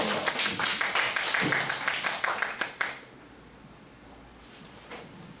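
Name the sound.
audience applause welcoming the lecturer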